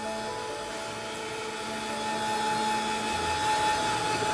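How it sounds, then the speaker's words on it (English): Heat gun blowing hot air to dry a handmade birthday card, a quiet, even whirring hiss with a faint whine that rises a little toward the end, no talking. "I'm going to use my heat gun,"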